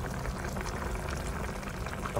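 Curry-leaf adobo pork ribs simmering in a pot, a steady close bubbling and sizzling churn that runs evenly throughout without pause.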